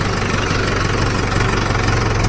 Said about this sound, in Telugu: ఫ్రెండ్స్ మా ట్రాక్టర్ ఎంతలో పోతుంది?